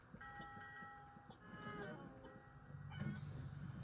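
Train sounds from the Crossy Road video game, a rumbling rail-car roll with faint warning-bell tones and clicks mixed in, moderately loud and steady, no voices.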